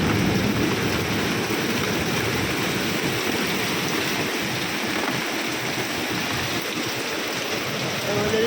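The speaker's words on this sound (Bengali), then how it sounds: "পুরো বিল্ডিং সাদা বৃষ্টিতে।" Heavy rain pours steadily around a flat building, a dense, continuous wash of close downpour with no pauses, splashing onto the surfaces nearby.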